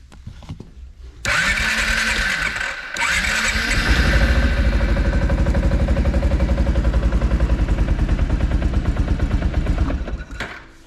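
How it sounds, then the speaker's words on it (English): Kawasaki Prairie 360 ATV engine cranking with a starter whir, catching and then running at a raised idle, a loud close rapid chugging thump that settles steadily before cutting off. "I'm going to turn the idle up a little bit."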